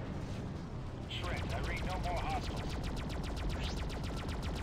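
Rapid gunfire pours from a fighter's weapons onto a Liberty Rogue base in the space game Freelancer, a steady fast rattle of shots with whooshing effects and a brief radio-style voice near the start.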